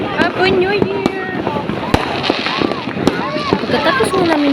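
New Year's Eve fireworks burst outdoors in a dense run of sharp bangs and crackles, with rising whistles between them. Voices are heard throughout.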